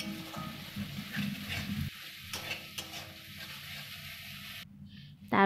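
Spice paste frying and being stirred in a pan for a Bengali puti fish mustard curry, a close, busy sizzle broken by scraping stir strokes, ending with a short clatter.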